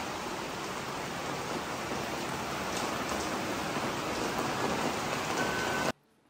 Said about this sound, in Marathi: एवढा जोरात पाऊस चालू